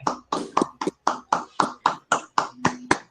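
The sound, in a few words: applause for the defended master's thesis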